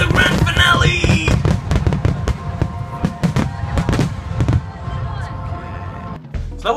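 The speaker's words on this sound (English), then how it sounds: "flower-shaped ones, funny faces, and more funny faces, invisible fireworks, and then the grand finale!" Grand finale of a Japanese hanabi fireworks show, a rapid barrage of sharp loud bangs and crackling bursts in quick succession, echoing over a crowd murmur, then easing off near the end.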